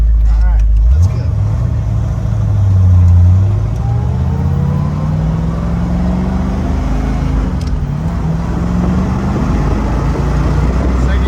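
A black 1968 Shelby GT500 KR convertible with a factory four-speed pulls hard in fourth gear, its V8 engine note rising steadily and loud from near the microphone, with a rumbling low drone beneath and voices talking over it.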